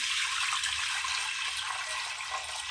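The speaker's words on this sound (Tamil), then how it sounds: "தண்ணி சேர்த்துக்கலாம்" Water is poured into a pot of cowpea and bottle gourd curry, a steady hissing splash that runs evenly for about three seconds with no voices.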